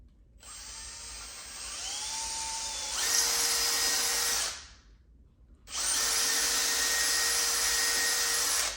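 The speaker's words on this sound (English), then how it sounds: "now I could drill these holes out a little bit better from this side" A power drill bores pilot holes into a wooden newel post, two sustained whirring bursts of a few seconds each, the motor pitch shifting under load, separated by a brief pause, close and loud.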